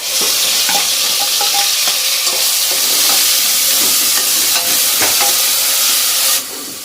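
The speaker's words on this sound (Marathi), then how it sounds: "हे आपल्याला छान असं एकदम लालसर होईपर्यंत परतून घ्यायचं आहे" Loud, dense sizzling of onion paste and coriander frying in a pan until reddish, with scattered stirring scrapes, steady throughout before easing off at the very end; no one speaks.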